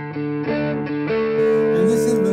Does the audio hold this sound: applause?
no